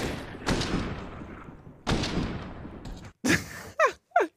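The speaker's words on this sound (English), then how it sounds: "He fires four bullets and gets four kills." Four gunshots ring out in CS:GO. They come as sharp bursts spaced about a second apart, each trailing a short decay, followed by quick faint effects near the end.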